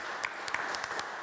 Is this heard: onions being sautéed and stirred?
no